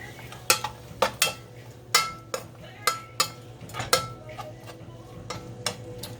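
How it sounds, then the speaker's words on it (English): Ground meat browns in a pan for chili while a utensil taps and scrapes the pan in a steady run of sharp metallic clicks over a low sizzle. "So we're just going to brown this meat a little bit."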